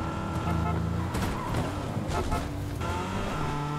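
A car engine roars in a video game as the vehicle drives close by, with bursts of revving and a brief tire squeal over a loud, busy game background.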